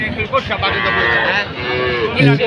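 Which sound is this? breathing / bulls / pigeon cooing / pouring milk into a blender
bulls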